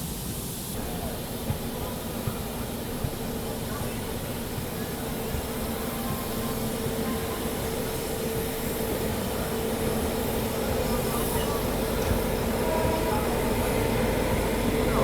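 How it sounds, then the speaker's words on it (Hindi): Dehradun Subedarganj Express rolling past at a railway station, a continuous loud rumble and rail clatter with steady hiss that slowly builds, no voices. "ये थी दोस्तों आप लोगों की देहरादून सूबेदारगंज एक्सप्रेस।"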